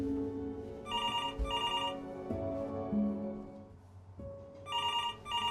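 In the video game Before Your Eyes, a telephone rings for an incoming call: two short bursts of bright electronic ringing, spaced a few seconds apart, over a low sustained musical drone.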